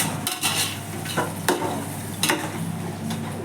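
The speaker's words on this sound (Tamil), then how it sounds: "ஒரு கப்பு தயிர் போட்டு நல்லா எண்ணெயில் தக்காளிக்கு வந்து ஒரு அஞ்சு நிமிஷம் நல்லா வதக்கி விட்டோம்" Tomatoes and curd sizzle in hot oil in a pan for mutton white pulao. A steady close frying hiss carries through, broken by several sharp stirring scrapes and clinks of a spoon against the pan, with no talking.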